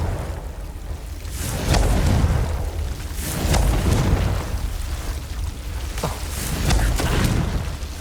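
A Confringo spell explodes in Hogwarts Legacy as a thick roaring, rumbling boom with crackling debris, swelling and fading in waves over several seconds and heard on its own.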